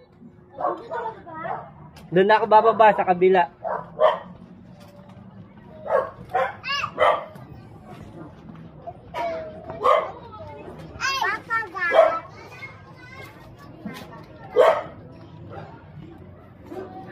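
A dog barks a few times on a busy residential street in Tondo, Manila, sharp yips mixed with children's voices and adults talking close by.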